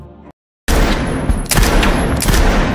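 Gunfire at a shooting class, a loud dense burst of overlapping shots after a brief silence, booming and continuous at close range.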